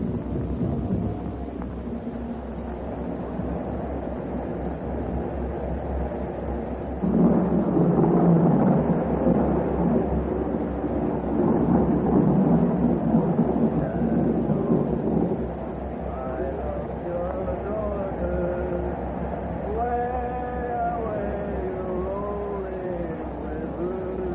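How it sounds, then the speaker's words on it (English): A radio play thunderstorm sound effect: steady heavy rain hisses throughout while a deep, long roll of thunder swells for several seconds in the middle, with faint voices surfacing near the end. "They said there'd be a storm tonight. It looks like it's on the way."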